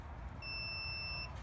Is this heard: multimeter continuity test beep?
yes